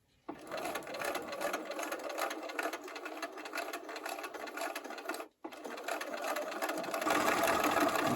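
A sewing machine stitches a Martha Washington star quilt block in a steady, close whirring run that pauses briefly midway, then resumes and speeds up toward the end.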